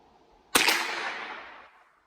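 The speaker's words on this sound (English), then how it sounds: "you hear the bang and the crack of the bullet" A single shot from a Daisy Heddon 22 VL caseless rifle gives a sharp, close crack followed by a decaying echo lasting over a second, heard alone.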